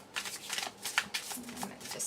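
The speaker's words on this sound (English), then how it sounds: "Just one shuffle there." A deck of tarot cards shuffled close by in quick riffling bursts, with soft papery flutters and taps and a voice speaking faintly underneath.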